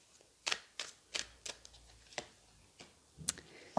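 Tarot cards handled and laid down during a reading, giving a series of sharp, dry slaps and flicks at irregular intervals, fairly close and quiet, with a crisper snap near the end.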